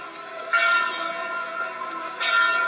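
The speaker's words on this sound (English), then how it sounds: "The watchman rings the bell in the courthouse tower." A watchman rings the bell in a courthouse tower as a fire spreads through a city block. Sustained, overlapping metallic tones ring steadily, swelling twice, with no voices.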